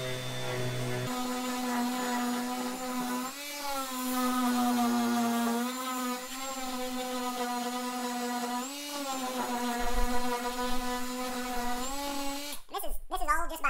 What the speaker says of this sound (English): I can come back with my trusty sander.